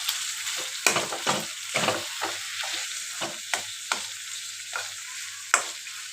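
Dried fish and taro being stir-fried in a pan, with repeated scraping stir strokes over a steady close sizzle, no voices.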